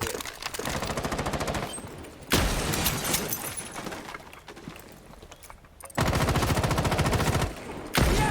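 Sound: gunfire in the video game Rainbow Six Siege

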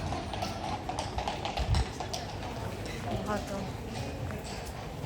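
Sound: horse hooves clip-clopping on street

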